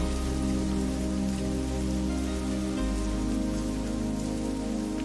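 Steady rain patters on a roof, a dense continuous drumming with a low hum beneath it, no voices.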